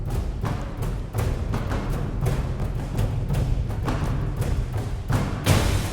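Orchestral percussion ensemble in an epic score, a gong drum's rim tapped in steady sixteenth notes over deep booming hits and rumbling low drums, dense and continuous with a bright crash swelling at the end.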